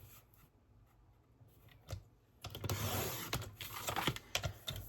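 Scissors snipping through paper, with soft crisp cuts and rustling that grow louder and busier toward the end, heard close and alone.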